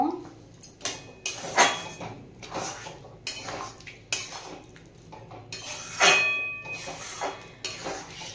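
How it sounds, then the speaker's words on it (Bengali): A spoon scrapes and knocks through white sauce pasta in a pan, giving a string of close clinks and scrapes at an uneven pace with quiet gaps between strokes. "আবার মিশিয়ে নেব।"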